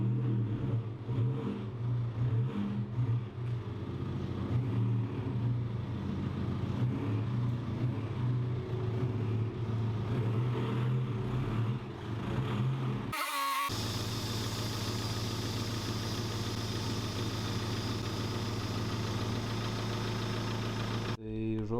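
A Volkswagen Touran's engine running as the car drives into a garage: a steady mid-pitched idle with a slight knock, a voice talking over it, then a brief cut before the engine continues alone.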